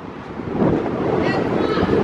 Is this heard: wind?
yes